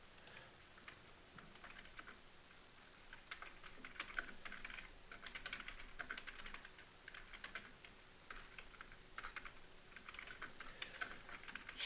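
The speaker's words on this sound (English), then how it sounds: "So here's what I'm typing about Loopring." Steady computer keyboard typing, quiet and close, with irregular bursts of keystrokes running continuously throughout with no talking.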